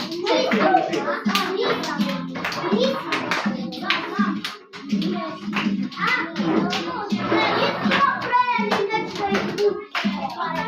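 Children applaud together in a classroom during a game of musical chairs, a dense, steady patter of many small hands clapping close by, mixed with kids' voices throughout.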